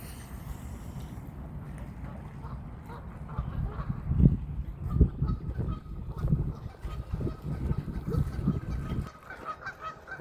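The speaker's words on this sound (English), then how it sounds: "More geese." Geese honking on a pond among other water birds during feeding, a cluster of nasal calls rising over a low background rumble, fairly close and repeated for several seconds before fading.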